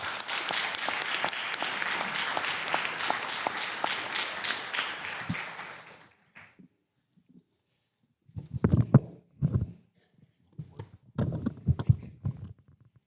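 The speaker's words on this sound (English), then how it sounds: "Let's give Brandon a big round of applause." A sustained round of applause from an evening banquet audience honoring a local high school sportswriter, dense and steady for about six seconds before dying out, followed by a few scattered voices speaking.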